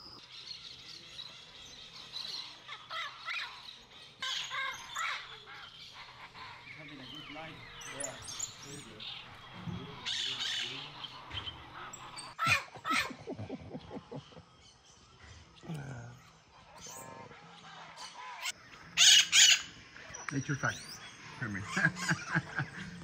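Birds near a nest in the Brazilian forest give scattered squawks, chirps and shrill calls at close range, irregular and intermittent, with someone talking at times over rustling background.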